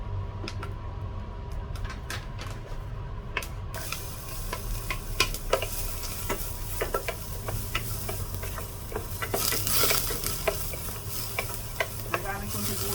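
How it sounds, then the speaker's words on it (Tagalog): Food sizzles steadily in a little oil while a utensil stirs and taps against the pan, the frying hiss rising and falling with scattered clicks, close and continuous. "Ito na siyang kunting oil. Susutay ko na ito."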